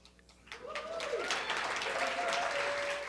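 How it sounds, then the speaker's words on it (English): Audience applause at an award ceremony during a community research conference plenary, building within half a second into steady, sustained clapping from a large crowd that continues to the end. "Gonna get a lot of claps and clicks today"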